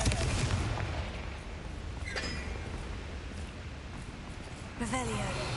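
Confringo fire-blast spell from Hogwarts Legacy, heard as a continuous rumbling, booming wash with a sharp crack near the middle and a burst near the end, steady and fairly loud throughout.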